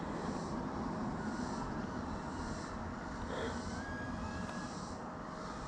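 A DJI Avata 2 FPV drone flown in manual mode gives a steady, loud whirring motor drone that holds throughout, with faint pitch shifts as the throttle rises and wind rushes past.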